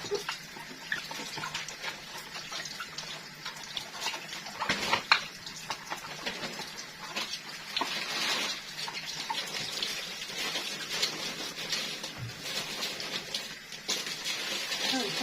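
Groceries being washed under a running kitchen tap, a steady hiss of flowing water with occasional splashes and knocks as items are handled, moderately quiet and continuous throughout.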